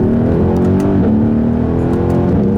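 A 2018 Mercedes-AMG GLC63 engine pulls hard and loud from inside the cabin, its droning pitch rising and then briefly dropping twice as quick upshifts land. No one is speaking.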